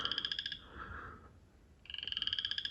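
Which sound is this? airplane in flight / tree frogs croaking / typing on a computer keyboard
tree frogs croaking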